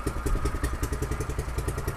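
A Predator 212cc engine on a minibike idles while warming up, a steady close, loud, throbbing chug with fast regular firing pulses and light mechanical clatter.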